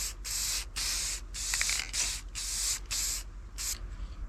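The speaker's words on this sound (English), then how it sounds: "then we'll spray paint it clear, and it'll come out looking like it's been dipped in glass" Repeated hissing bursts of clear-coat spray paint aimed at a handmade slingshot, roughly eight close, loud puffs of about half a second each in steady rhythm with brief gaps between.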